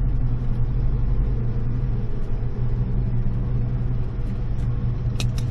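A Chevrolet C10 truck with a cammed LS engine swap rumbles during a shakedown drive, a deep, steady low growl heard from inside the cab, loud and continuous, with a faint ticking rattle near the end.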